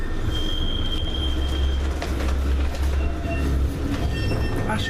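A tram bound for Ashton and Piccadilly brakes with a loud, close, continuous low rumble and a thin, sustained wheel squeal laid over it, heard from on board.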